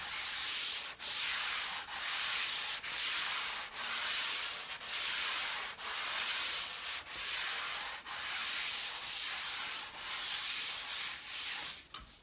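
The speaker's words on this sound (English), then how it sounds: "I'm using an 800 grit because I don't want to remove my shellac" Fine 800-grit sandpaper rubbed over a lacquered, shellac-finished wood surface in steady back-and-forth strokes, a continuous close hiss broken by brief pauses roughly every second, with no voices.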